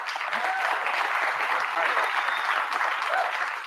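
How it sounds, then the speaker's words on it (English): An audience at a live awards show applauds, a steady, moderately distant wash of clapping that continues evenly for nearly four seconds. "Let's give them a round of applause."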